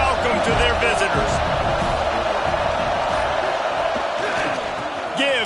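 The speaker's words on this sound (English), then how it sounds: "This crowd bringing an ear-splitting welcome to their visitors." A packed stadium crowd roars a loud welcome to the visiting team, a dense sustained wall of cheering and whooping with voices mixed in throughout.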